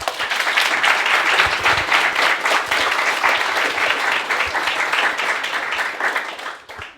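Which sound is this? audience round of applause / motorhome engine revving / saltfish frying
audience round of applause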